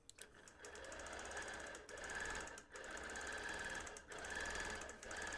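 A sewing machine hums steadily while machine quilting layers with no batting, its needle chattering fast and continuously with a few brief dips in pace and nothing else heard.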